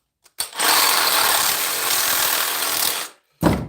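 A small Sawzall reciprocating saw cuts through a piece of scrap copper with a loud, close, steady rasping buzz for about three seconds, then a second short burst follows after a brief pause.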